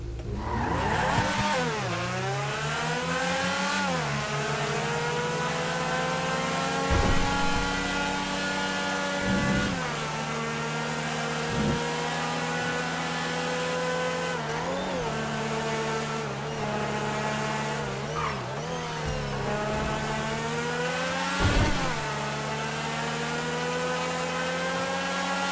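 A Tigon two-door supercar in a video game drones steadily through a long test drive, its engine tone rising and falling with gear shifts and occasional squealing, loud and continuous with no talking.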